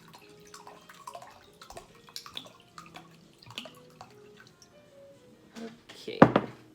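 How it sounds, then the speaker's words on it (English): A cup of water is poured into chocolate cake batter in a home kitchen, ending in a short, louder splashing gush near the close after scattered clinks and handling knocks, with a voice faintly present. "so I'm gonna add a cup of water"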